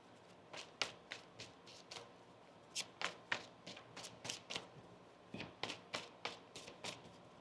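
A tarot deck is shuffled in rapid riffle bursts, each a sharp papery ripple, repeating in irregular clusters with short pauses between them, close and fairly quiet, with no talking.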